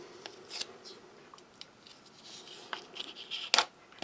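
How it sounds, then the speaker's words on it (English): Scissors snip around the lid of a Russian army ration cheese tin, giving a few sharp, close cutting clicks and scrapes spread unevenly over a quiet background, the loudest cut near the end. "I think I'm going to just bring in my old friend and just cut around the lid of the cheese."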